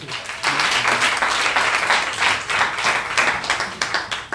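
A church congregation bursts into loud, sustained applause and clapping after a call to acclaim Jesus, filling the room for several seconds at close range.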